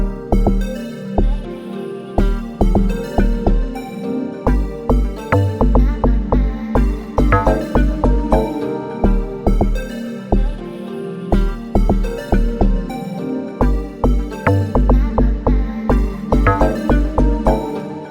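Amapiano production built in FL Studio: a pop-style groove with a deep log-drum bass line and a sub bass fill, punchy low hits pulsing steadily under layered synths and percussion, loud and continuous with no voices.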